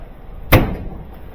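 A single washing machine door is shut with a dull thud, a broadband close impact after near silence, with a brief fade and no voices.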